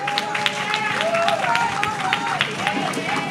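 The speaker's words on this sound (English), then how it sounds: "Let's clap it up for our team here." Dense applause from a crowd, with cheering voices and whoops rising over the clapping.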